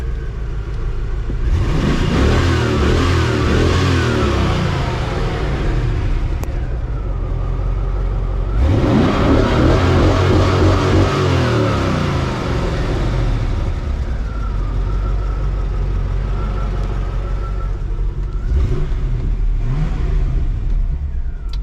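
A Corvette engine cranks and catches, then revs loudly in repeated swells that rise and fall, with a deep rumbling idle between bursts close up.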